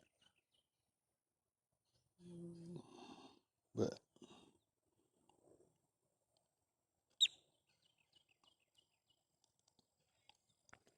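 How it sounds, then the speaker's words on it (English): A crow calls close by with a few harsh caws separated by gaps, followed by a sharp single call and scattered faint clicks in an otherwise quiet outdoor setting. "there's a crow just flew up close to me."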